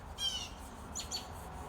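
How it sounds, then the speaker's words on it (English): Birds chirp outdoors near a porch, a few faint, brief high calls over a soft steady background hush. "You're probably hearing the birds and nature in the background."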